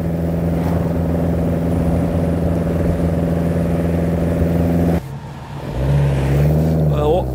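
A Morgan 4/4 sports car drives with a steady, loud engine drone throughout, then the note drops and shifts at about five seconds as the engine revs up again, close and dominant with no talk.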